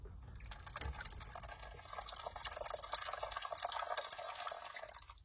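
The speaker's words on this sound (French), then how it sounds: "hop, je lui mets toute l'eau." Water poured steadily into a bowl of instant soup inside a camper van at breakfast, a quiet continuous splashing fill that grows slightly fuller toward the end.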